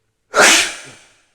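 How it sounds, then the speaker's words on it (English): A single sharp human sneeze bursts out close up, a quick breathy explosion that trails off within about a second. "Sorry, I'm sneezing."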